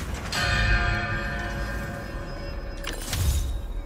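A large bell rings out with a long, echoing decay inside a hangar in the Spider-Man 2 video game, sustaining for several seconds before a second strike swells near the end.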